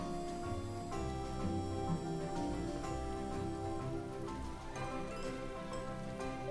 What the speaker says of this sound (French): Puis je me suis dit, il pleut.